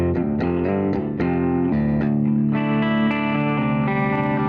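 Clean electric guitar notes and chords ring out with delay repeats from a Mimic 2 delay and a wash of reverb, played alone with no talking.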